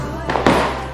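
Fireworks bursting on New Year's Eve inside a quiet residential housing complex, heard as two muffled thuds a short way off over a steady background hum.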